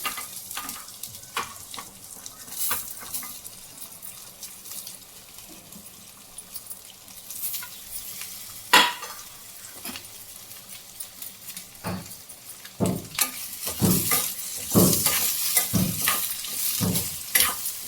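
Fresh raw coconut pieces fry and get stirred in a pan, giving a steady soft sizzle with repeated scraping and clattering strokes that grow louder and busier toward the end, with no talking.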